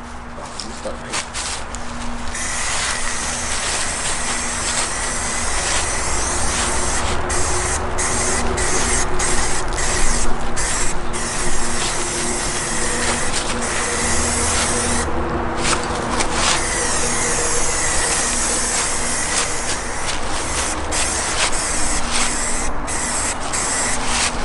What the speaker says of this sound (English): gonna go ahead and hit it with this Krylon paint, the 2-in-1